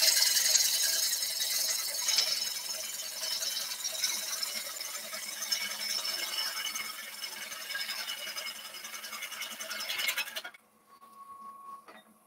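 Small gouge shear-cutting a wooden bowl spinning on a lathe, a steady high, squealing, rasping scrape lasting about ten seconds, then a sudden drop to faint hum.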